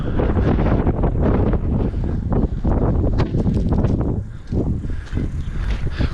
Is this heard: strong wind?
yes